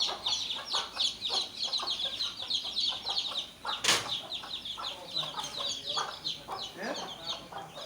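Young chicks on a poultry farm, out in the sunshine, keep up a busy stream of high, thin peeping chirps, many overlapping in quick irregular bursts close by, with a few louder sharp cheeps standing out.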